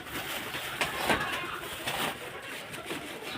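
Pigeons coo softly in a rooftop pigeon house, a few low calls under a steady background hum.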